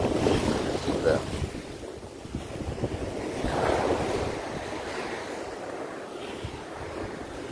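Ocean surf washing onto the beach at Kribi, Cameroon, a steady broad wash of breaking waves with wind buffeting the microphone and faint voices in the background.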